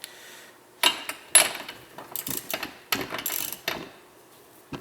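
A socket wrench works on the spark plug of an ice auger, with bursts of metallic ratchet clicking and clanks in short irregular runs, close and fairly loud, with no voices.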